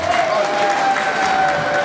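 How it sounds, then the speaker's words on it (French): Applause from guests filling a hall at a Cameroonian wedding reception party, a steady dense wash of clapping with crowd murmur and a sustained musical tone underneath. "Est-ce qu'on peut applaudir très fort?"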